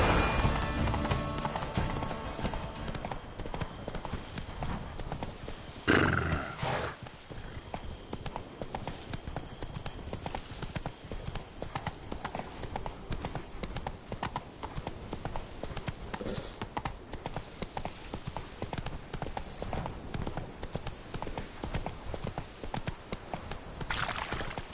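Roach, the horse in the video game The Witcher 3, gallops with fast, steady hoofbeats that stay rhythmic and close throughout, with a brief neigh near the start and no clear talk.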